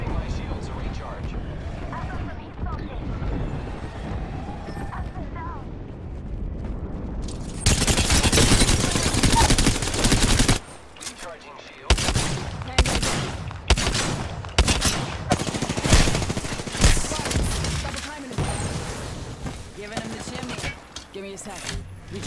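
Rapid automatic gunfire and explosions in the Apex Legends battle royale game, loud dense bursts after a quieter opening, with voices calling out over the shooting.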